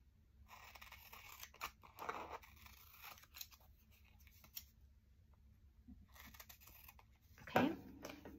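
Scissors trimming excess paper from a tape-covered journaling card, a few soft snips and crunchy cuts close by, quiet with gaps and a louder cut near the end.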